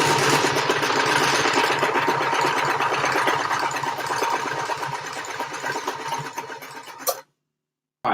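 A sewing machine stitches a leotard, running loud and steady with a dense mechanical whir for about seven seconds before stopping abruptly into silence.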